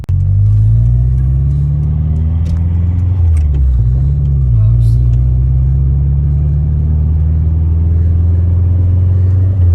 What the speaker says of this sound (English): It rattles a lot more because it's a 30-year-old car, but it sounds way better from the outside.